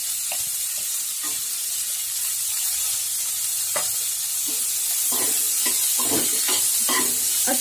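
Chopped vegetables for vegetable kadhi are stirred in a frying pan over steady sizzling, with scraping spoon strokes clustered late in the stretch and no talking.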